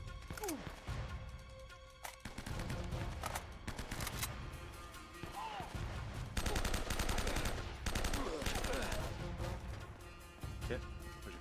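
Gunfire in Uncharted: Drake's Fortune, with repeated sharp shots and bursts, some in rapid runs, under game music and someone speaking French over the action.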